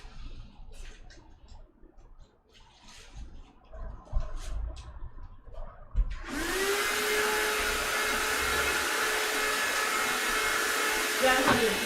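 A vacuum cleaner switches on while someone decorates a work room for Christmas. After some quiet rustling and handling noises, the motor starts abruptly about halfway through and then runs as a loud, steady whine and roar until the end.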